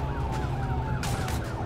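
Wailing police sirens in a video game (GTA) sweep up and down continuously, loud and close, layered over a low engine rumble with a brighter burst toward the end.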